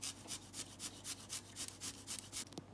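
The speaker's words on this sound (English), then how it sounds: "I'm gonna grate a nice big clove of garlic into the butter" A large garlic clove rasped over a grater into butter, about a dozen quick rhythmic scraping strokes, close and fairly quiet with no talking.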